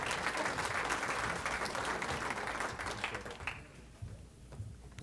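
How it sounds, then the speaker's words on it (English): A county audience at a State of the County presentation breaks into loud applause for the county commissioner, dense clapping that thins and fades out over the last couple of seconds. "if everybody give a round of applause for Chris Filios, our Commissioner."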